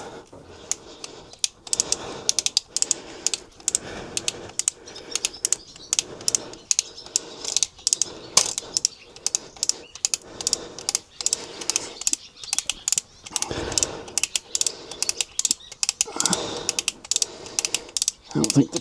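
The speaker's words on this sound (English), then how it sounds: "ratchet it down" A Callicrate Pro Bander is ratcheted down by hand, producing a long run of sharp, close mechanical clicks in quick irregular bursts with brief pauses between strokes.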